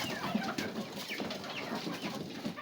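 Chickens and other poultry on a mixed bird farm, with young chicks among them, cluck and chirp in short, overlapping bursts at close range through the whole stretch, with no one talking.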